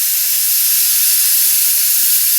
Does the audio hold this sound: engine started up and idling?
no